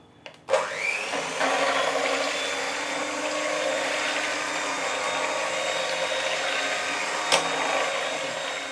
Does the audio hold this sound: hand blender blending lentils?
yes